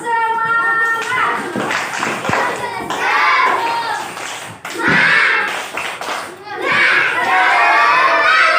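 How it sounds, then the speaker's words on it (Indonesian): A first-grade class of elementary schoolchildren in Indonesia performs a rhythmic clapping chant, their shouted voices and sharp claps coming in loud bursts close by, with brief pauses between phrases. "Coba tepuk semangat."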